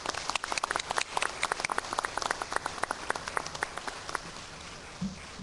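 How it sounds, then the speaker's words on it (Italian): Scattered hand clapping from a crowd at an art exhibition opening ceremony, steady and moderately loud for several seconds, then thinning out toward the end. "Veramente un applauso."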